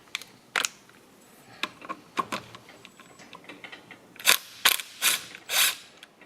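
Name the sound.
socket wrench removing flywheel on Yamaha GT80 dirt bike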